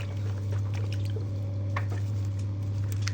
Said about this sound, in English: Washing Count Drac with the leper soap to get the glue out of the hair